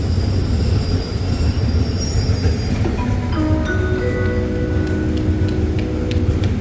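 Ordinary passenger train 254 rolling into Ban Pong station, Thailand: a loud steady rumble of wheels on track with rising metallic brake squeals and tonal whines building over several seconds, close by and with no voices.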